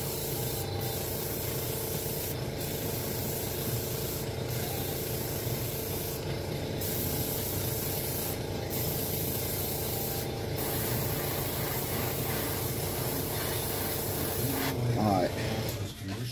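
An airbrush sprays paint over rivets for a rust effect, a continuous airy hiss running the whole time, broken by short regular pauses before a louder burst near the end.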